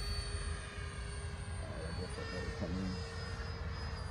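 Large electric ducted-fan model jet flying, a continuous whining fan drone with steady high tones, moderately close and sustained, with people talking over it.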